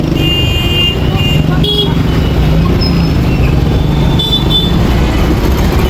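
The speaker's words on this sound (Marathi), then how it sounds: "हे आहे धुळ्याचं कच कच भरलेलं ट्रॅफिक" Heavy, packed road traffic in Dhule with a constant loud rumble of engines, occasional horn toots rising above the din and voices faintly mixed into the street noise.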